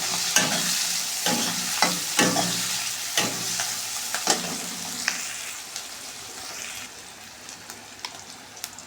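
Ginger garlic paste sizzles in a hot pan, a steady bright hiss broken by repeated stirring scrapes and taps that fade slowly across the stretch, with no voices.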